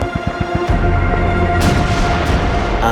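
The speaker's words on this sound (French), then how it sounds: "Un millier de canons allemands ouvrent le feu sur les positions françaises autour de Verdun." German artillery opens fire on French positions at Verdun in 1916, a loud, dense barrage of booming guns merging into continuous rumble, with a few rapid thuds at the start and sharp blasts breaking through.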